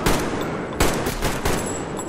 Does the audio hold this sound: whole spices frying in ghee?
no